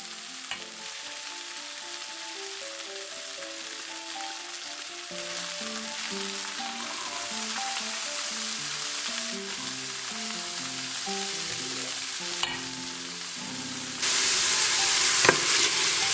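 Soaked, washed and drained rice sautés in a pan with a steady close sizzle and frying crackle throughout, growing a little louder near the end, with no talking.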